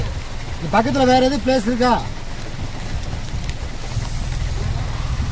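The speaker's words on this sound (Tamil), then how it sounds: "சரியான மழை. செம மழை." Heavy rain in the hills of Valparai's tea estates, a steady loud hiss and patter throughout while someone speaks briefly over it near the start.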